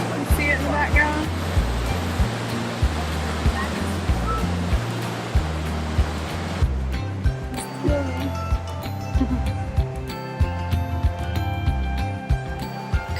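Niagara Falls roars as a loud, steady wash of rushing water. Partway through, the sound shifts and turns more buffeted and uneven.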